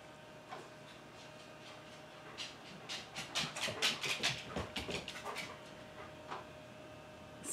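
A dog whimpers indoors in a burst of short, high, broken whines lasting a few seconds, close and moderately loud against a quiet room, with a few isolated whimpers before and after.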